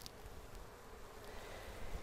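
Honeybees buzz inside a wooden package box with screened sides, making a faint, steady low hum that carries on without a break, with a few light bumps and scrapes close by.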